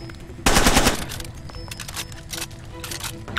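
Gunfire in the video game Far Cry 2: a loud burst of rapid automatic shots opens, followed by scattered further bursts and single shots at lower level against a busy game backdrop.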